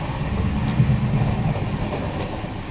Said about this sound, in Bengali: এই যে আমাদের ট্রেন, এই ট্রেনে করেই সফর করলাম